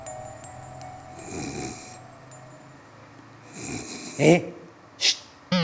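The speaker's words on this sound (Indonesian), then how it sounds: "Kok malah ngorok?" A person snores in loud rasping bursts, two long inhalations early on followed by sharper snorts near the end, with quiet gaps between and a faint tone in the background.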